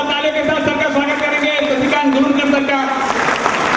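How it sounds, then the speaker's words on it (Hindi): Applause and cheering at the 2011 Dhanwantari event in Baroda greet the managing director. Dense, sustained clapping runs steadily over loud music, with a shouting voice layered on top throughout. "जोरदार तालियों के साथ सर का स्वागत करेंगे।"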